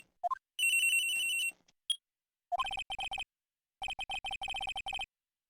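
A cell phone ringtone in the Phoenix Wright video game: a melodic electronic jingle plays in repeated short bursts separated by brief gaps, clear and alone without talk.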